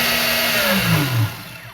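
The brushless motor of a Rlaarlo XTS F10 RC rally car whines at high pitch, its tone sweeping downward as it spins down, with a steady buzzing hum underneath.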